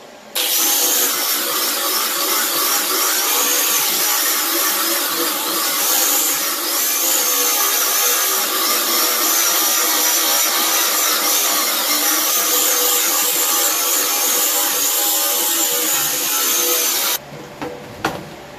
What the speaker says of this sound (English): cleaning this up with a sanding disc on a grinder